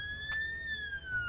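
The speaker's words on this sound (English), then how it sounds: "Emergency siren, Yelp, piercer," Police emergency siren from the Stormworks video game, a clear high wailing tone sweeping slowly and steadily, alone and fairly faint.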